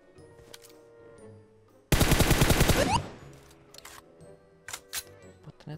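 In a mobile shooter video game, a single burst of rapid automatic gunfire lasts about a second, loud and close, then fades into a few faint clicks and scattered small sounds.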